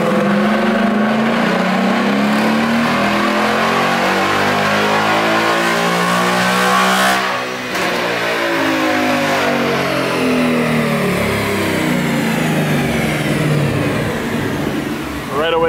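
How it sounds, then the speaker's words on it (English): Modified Ford Mustang S550 with cold-air intake, X-pipe exhaust and tune, revving hard through a dyno pull, the engine note climbing steadily in pitch, dipping briefly mid-run, then rising again, loud and close throughout. "we're about to do another pull in the dyno, see how much it picks up"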